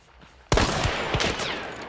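Loud gunfire from Hunt: Showdown breaks a near-silent moment, a sharp close blast followed by a second report and a ringing tail.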